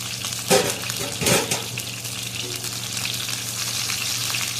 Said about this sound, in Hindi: देखिए 6-7 मिनट से मैं ऐसे ही फ्राई कर रही हूँ